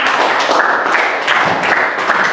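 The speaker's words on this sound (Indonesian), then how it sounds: "Tepuk tangan untuk kita semuanya." A class claps their hands at the end of a lesson, producing loud, dense, close-up clapping that runs unbroken throughout.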